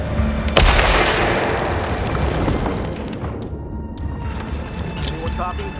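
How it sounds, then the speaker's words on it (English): A loud explosion in the video game Hitman, a sharp blast followed by a long rumbling decay that slowly fades under background game noise. "Something detonated in the proximity."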